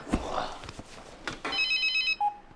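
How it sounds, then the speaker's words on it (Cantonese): A telephone rings in a Hong Kong television action drama, bright electronic trills pulsing in a steady pattern after a few soft footsteps and thuds, fairly close and clear with no voices over it. "我聽電話"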